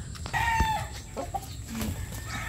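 Chickens peck at tomatoes and bananas, with close clucks and short tonal calls over a low background rumble.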